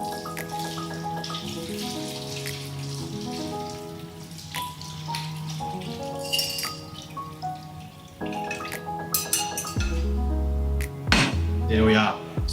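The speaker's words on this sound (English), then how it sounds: "we're just going to pour over the brine" Brine poured over salmon fillets in a tray, a steady liquid trickle and splash close by that grows into a fuller stream near the end, with background music.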